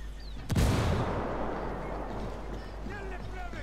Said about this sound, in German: Die Explosion hat sie misstrauisch gemacht.